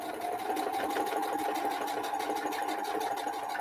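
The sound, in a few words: sewing machine stitching quilt blocks to backing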